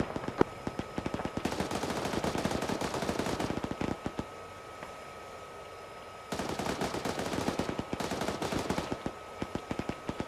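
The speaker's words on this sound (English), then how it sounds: "Friendly's firing" Friendly automatic gunfire in Arma, heard from an M1A1 tank platoon, rattles in long rapid bursts at moderate distance, pausing briefly before another sustained stretch of shots.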